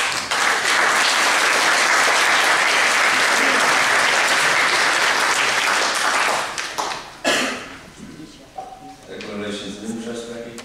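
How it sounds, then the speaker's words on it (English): Council members at a city council meeting give a sustained round of applause, loud and steady for several seconds before fading out, followed by a voice beginning to speak. "Cue round of applause."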